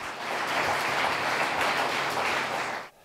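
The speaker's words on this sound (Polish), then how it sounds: "Jeszcze raz gorące wspólne brawa." Audience applause at the Serce Ziemi medal ceremony, a dense, sustained crowd of clapping at full strength for about three seconds before stopping abruptly.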